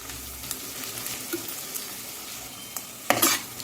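Carrots and capsicum stir-fry in a pan for a veg pulao, a soft steady sizzle broken by light scraping stirs and a louder clatter of the spatula near the end.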